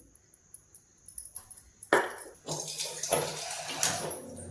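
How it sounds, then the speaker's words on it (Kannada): Water is poured into a spice mix of tamarind, ginger, peppercorns, coriander and sambar powder before grinding: faint clicks and taps, then a sudden splash and gurgling pour that continues in bursts. "ನೀರು ಸ್ವಲ್ಪ ಹಾಕೊಂಡು ರುಬ್ಕೊಳ್ಳೋಣ."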